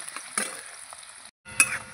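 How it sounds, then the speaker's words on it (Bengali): A chopped onion fries in oil in a wok, with steady sizzling and a few stirring scrapes, close by. A brief gap of silence breaks in before the sizzle returns with a sharp clink. "পেঁয়াজটা আমি ভালো করে লাল লাল করে ভেজে নেব"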